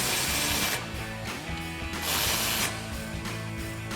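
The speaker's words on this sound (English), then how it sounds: "we'll grab our 15mm socket and tighten these back down" A ratchet with a 15mm socket tightens brake caliper bolts on a 2005-2014 Mustang GT being fitted with C&L Performance Series front calipers, giving loud, close, rapid clicking in bursts with brief pauses between strokes.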